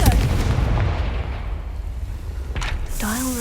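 A Confringo fire-blast spell in the Hogwarts Legacy video game detonates with a heavy, rumbling boom that decays over a couple of seconds, followed by a sharp crack and a bright magical whoosh near the end.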